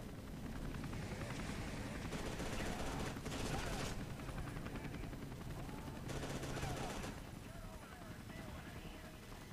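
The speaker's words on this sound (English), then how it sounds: "Sounds like a firefight." Gunfire from a firefight in the video game F.E.A.R. 2, a dense, continuous rattle of automatic shots with bursts swelling and easing across the clip, loud and busy with no clear gaps.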